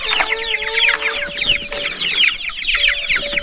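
Chickens in a Zimbabwean village cluck loudly and continuously, several birds overlapping in quick, rapid calls close by, with no talking.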